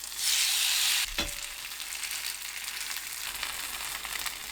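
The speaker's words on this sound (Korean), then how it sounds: "상추를 썰어서 부치는 것보다 상추 모양 그대로 부치는 게 훨씬 맛있어요." A lettuce pancake made with whole lettuce leaves sizzles steadily in a frying pan, with one brief clunk near the start before a constant, close crackle continues.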